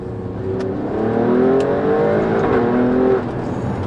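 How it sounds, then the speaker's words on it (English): An Alfa Romeo Stelvio Quadrifoglio exhaust revs hard and loud in second gear, pitch climbing then dropping as the engine bounces off the rev limit. "The exhaust starts to make a more shouty noise."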